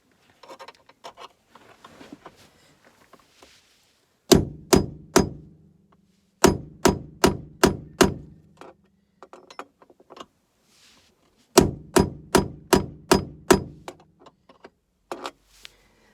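Metal hammer blows strike a stuck door bracket on a Ford Maverick, landing in three sharp bursts of four to six ringing clangs each, loud and close, with quieter scraping and handling noises between the bursts.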